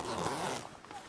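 A zipper runs along the side wall of an OPENROAD tent, giving a steady, close rasp that holds for most of a second and then eases off into quieter rustling.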